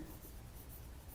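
A pen writes on paper in a continuous soft, close scratching rub, quiet and steady throughout the short moment.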